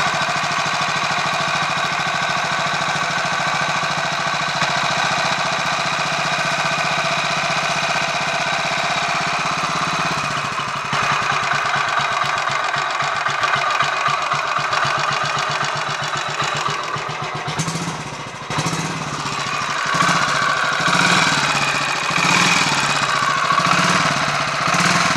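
A Royal Enfield 500 Machismo motorcycle engine idles with the choke on, giving a steady, loud mechanical running sound with a rapid knocking, clattering texture that roughens partway through and continues alone without talk.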